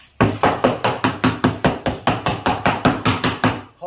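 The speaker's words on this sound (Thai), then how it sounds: "ต้องมีไม้อันนึงมาเคาะนะ ถ้าถือแต่ค้อนเคาะนะเดี๋ยวมันจะเป็นรอยบุ๋มของไม้" A hammer taps on a wooden block to press laminate onto a built-in furniture panel, producing about fifteen evenly spaced, sharp knocks in a steady fast rhythm, loud and close with no talking.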